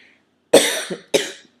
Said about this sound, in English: of course I start coughing when I'm trying to talk to a computer